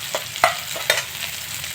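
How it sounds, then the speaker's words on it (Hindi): Potatoes and onions frying together in a pan over medium heat for aloo methi, a steady sizzle with a few scraping stirs breaking through, close and continuous with no speech. "तो प्याज आलू की एक साथ फ्राई कर ले हम।"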